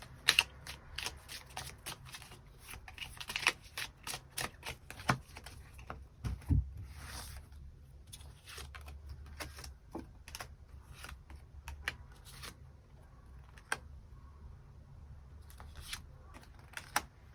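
Tarot cards are shuffled and drawn in a sequence of crisp, irregular flicks and riffles, close and moderately loud, with a short louder shuffle burst midway and no voices.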